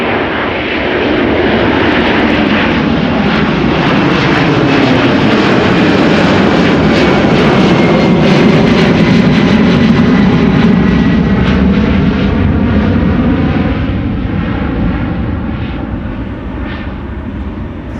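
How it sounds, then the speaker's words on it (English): Boeing 767 jet engines roar loudly and steadily at Amsterdam Schiphol Airport, a sustained close rumble with a rising whine, swelling slightly and then easing as the smoky-engined airliner passes. "Old school sounds. The second 767 of the show."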